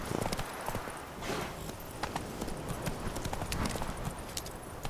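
A horse gallops in The Witcher 3, a steady, fairly quiet clip-clop of hooves on ground, continuous and unaccompanied by talk.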